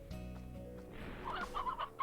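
Chickens cluck in a farming video game, several short clucks rising toward the end over a steady background of game music and ambient tones.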